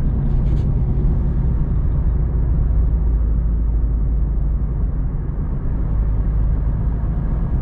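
A 1984 Pontiac Fiero on a November drive, heard from inside as a loud, steady low engine and road rumble that holds constant throughout, with no talking.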